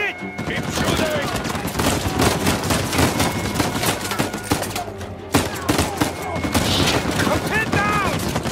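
Video game gunfire in Uncharted 4 crackles as dense, rapid bursts and repeated shots throughout, with characters shouting over the firefight.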